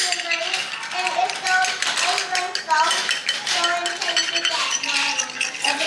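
Metal spoon clinks and scrapes against a bowl while portioning an arancini mixture of quinoa in a home kitchen, a rapid irregular rattle of tapping and clattering, close and fairly loud throughout.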